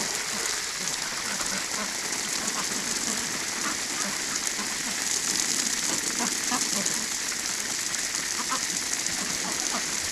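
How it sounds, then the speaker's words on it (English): Garden hose spraying water over a group of animals at a hospital enclosure in the evening, a steady rain-like hiss and patter of droplets throughout, with faint background sounds. "They're all lining up for a turn to get sprayed here."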